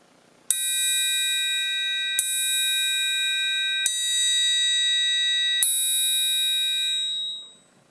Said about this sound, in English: I'm going to strike the triangle right down here in the lower corner